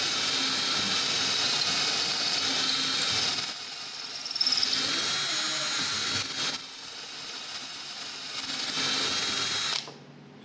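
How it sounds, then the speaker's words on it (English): A steady, high-pitched electric drill whines continuously at high speed, drilling a model aircraft's rear spar close by, with brief dips and surges in speed before it stops abruptly near the end. "turn it up to high speed."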